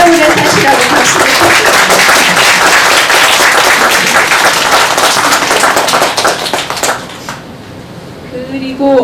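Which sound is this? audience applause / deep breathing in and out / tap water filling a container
audience applause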